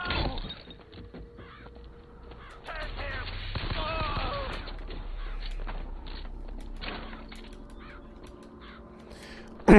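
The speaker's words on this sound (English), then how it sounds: "Is there going to be a flock of crows or murder of crows?" Crows caw harshly in BioShock Infinite, a murder of crows conjured as a power replacing an insect swarm, with repeated raspy calls over rumbling game ambience and footsteps, ending in a sudden loud burst.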